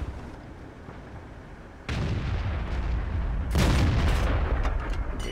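A tank gun fires in World of Tanks, first a sudden loud boom, then a second heavier blast that rolls out into a long, rumbling reverb with no voices over it.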